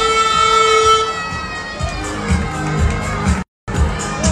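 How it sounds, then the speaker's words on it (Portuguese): An air horn sounds to start a race at an air show at the aerospace museum in Rio de Janeiro, a sustained tonal blast rising over crowd noise and voices, then fading into general outdoor chatter. "Essa buzina é a largada da corrida"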